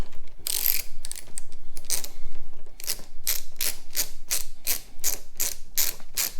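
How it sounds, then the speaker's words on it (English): A ratchet unscrews an install tool from a Chrysler 300S Hemi during a grille fitting, with rapid close clicking bursts that speed into a steady, evenly spaced series of sharp clicks. "So we're unscrewing the tool."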